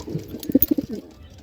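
A pet pigeon coos close by, a quick run of soft, throaty pulses that swells and then fades over about a second.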